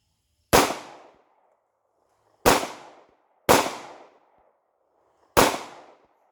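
Four loud, sharp Hi-Point pistol shots, fired with a limp wrist, crack out at uneven intervals. Each one rings off briefly, with silence in between.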